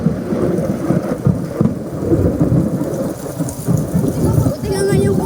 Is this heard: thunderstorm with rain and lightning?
yes